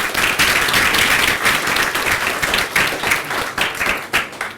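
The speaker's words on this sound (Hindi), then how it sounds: "निमिकांत जी के लिए तालियां बजाओ यार एकदम।" A classroom audience at a group discussion and interview session claps steadily for a participant, a dense, fairly loud round of applause with no talk over it.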